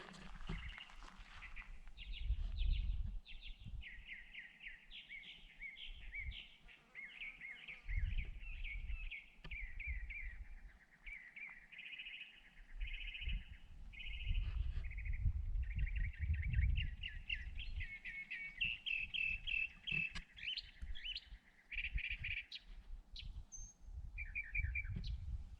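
A desert bird calls persistently from the top of a cactus at Organ Pipe Cactus National Monument, its repeated bright chirping phrases carrying clearly over low wind rumble and occasional footsteps on dry ground.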